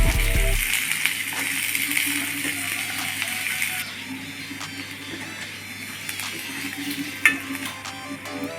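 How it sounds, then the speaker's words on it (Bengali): Chopped onion is stirred and fried in a pan, a steady hissing sizzle that softens midway, with faint scraping and one brief clink near the end. "পেঁয়াজটা প্রথমে লাল লাল করে ভেজে নিতে হবে যাতে কাঁচা গন্ধটা না থাকে একটু নেড়ে চেড়ে আমরা ভেজে নিলাম"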